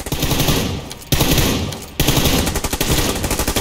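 Gun in a first-person shooter video game firing short rapid bursts, three sharp clusters of shots separated by brief pauses, loud and close, with no talk.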